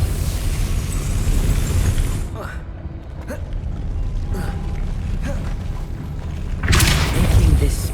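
A Depulso spell is cast in Hogwarts Legacy, giving a few booming, creaking bursts over a dense, rumbling game soundscape, with the loudest blast near the end.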